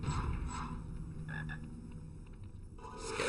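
Frog croaking in the Harry Potter and the Chamber of Secrets PC video game, a low repeated croak sitting steadily under game ambience throughout.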